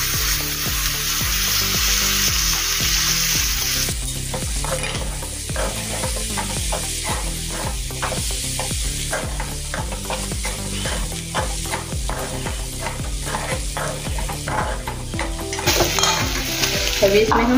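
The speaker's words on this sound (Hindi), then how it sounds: "थोड़ा देर इसको भूनने के बाद हम इसमें फली डालेंगे जो तैयार किए थे" Cluster beans (gawar phali) stirred and fried in a pan, with a steady sizzle throughout and repeated close scraping and clinking of a spoon against the pan, no talking.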